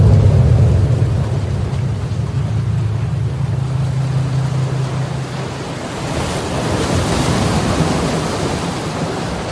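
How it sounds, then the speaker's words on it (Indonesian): Ocean waves surge and wash in a steady, loud roar, heavy low rumble early then a broader hiss of breaking surf, with some wind buffeting and no talk. "tiba-tiba aku dikejutkan dengan suara debur ombak dari salah satu kamar kos"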